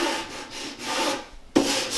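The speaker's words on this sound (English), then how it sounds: "using our 80 grit sandpaper and our sanding block, and I'm gonna distress" Rhythmic scratchy rubbing of 80-grit sandpaper on a sanding block against wood, strokes back and forth at a steady pace, close and fairly loud, ending with a sharp knock.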